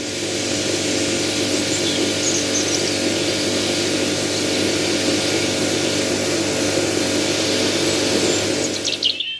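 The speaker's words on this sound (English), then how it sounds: "So I'm about to start the pressure washer and we'll give it a go." A pressure washer runs continuously against an Indian sandstone patio, giving a steady, loud hiss and motor hum that stays unbroken from start to finish, with a few faint bird chirps in the background.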